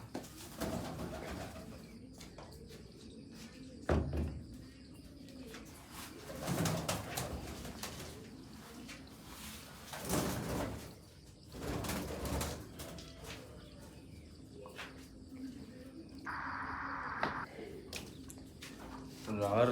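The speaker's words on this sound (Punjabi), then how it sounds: "ਤੇ ਨਾਲ ਆ ਕਬੂਤਰੀ ਮਿਲੀ ਹੋਈ ਹੈ ਮਿੱਤਰੋ" Pigeons coo softly in low, throaty murmurs through the whole stretch, with people talking nearby and occasional rustling.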